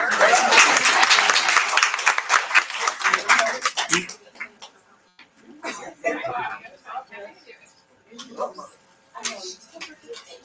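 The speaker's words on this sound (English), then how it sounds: "one more round of applause" An audience applauds at a regular board meeting, loud dense clapping for about four seconds, then sparse scattered claps and murmuring voices as it dies away.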